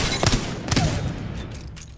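Wingman pistol firing timed shots in the video game Apex Legends: two loud, punchy shots about half a second apart, then a fading tail.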